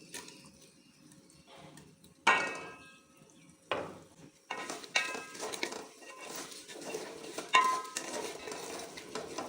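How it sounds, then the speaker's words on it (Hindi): Half-cooked potatoes mixed in a pan for aloo methi, with intermittent metallic scrapes and clatter of a spoon against the pan over a soft sizzle, bursts separated by quiet gaps. "अब हम इसको थोड़ा सा मिक्स कर लेंगे"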